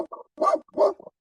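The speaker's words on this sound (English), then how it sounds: "a dog barking" A dog barks close by in a short burst of two or three sharp barks with small yips between them, loud and alone.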